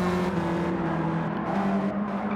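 Race car engines in the Gran Turismo 7 video game, a steady loud droning roar with strong held engine tones and a slight rise and fall in pitch, no talk.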